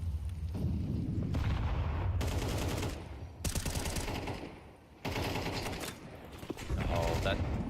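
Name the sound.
grenade and gunfire in Counter-Strike video game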